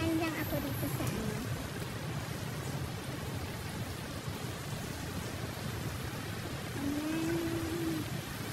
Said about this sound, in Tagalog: Pag-ulan na kasi ngayon dito sa Japan.